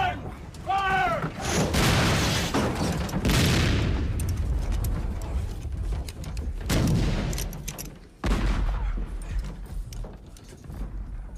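A sailing ship's guns fire a volley, heavy booming blasts that roll on and overlap for several seconds, loud and close, with someone shouting orders early on.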